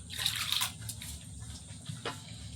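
Warm water poured into a bowl of flour and mixed in for a rice-flour pancake batter, a short close splashing pour followed by quieter sloshing and drips.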